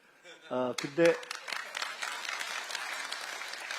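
A crowd applauds, starting with a few sharp claps that swell into sustained, steady clapping throughout.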